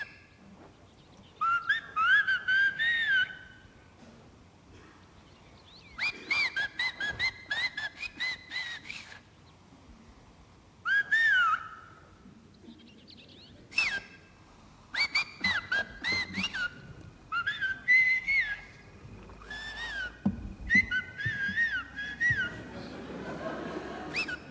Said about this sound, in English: Okay, so we're going to listen to this clip, and he is whistling.